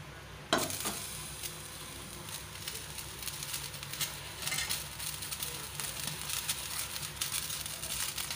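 Tempering crackles and sizzles in hot oil, starting with a sharp burst and then settling into a steady, moderately quiet hiss with scattered pops throughout.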